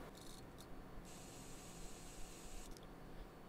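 A paint sprayer in the racing game Street Legal Racing Redline hisses in bursts, a faint airy spray that starts, pauses briefly and resumes, quiet and alone.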